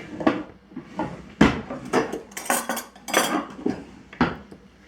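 Metal cutlery clatters and clinks in a series of sharp, close jangles as a spoon is pulled from a drawer of utensils, with brief knocks between.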